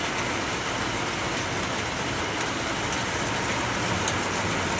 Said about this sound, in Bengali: সকাল থেকে প্রচুর বৃষ্টি হচ্ছে বন্ধুরা